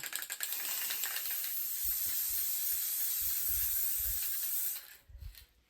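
An aerosol can hisses in one long continuous spray for several seconds while spraying a custom basketball, then cuts off, followed by a few soft handling sounds.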